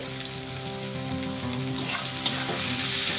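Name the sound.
onions and green chillies frying in pan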